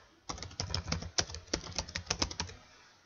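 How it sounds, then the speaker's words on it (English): A note being typed on a computer keyboard, a quick run of close, crisp key clicks lasting a few seconds in a quiet room, with no talking. "To create a note, you simply type in the space below note."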